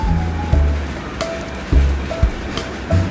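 Water poured into onion and garlic frying in a pan for bottle gourd and shrimp curry sets off a steady, loud hiss and sizzle, broken by a few sharp utensil clinks against the pan.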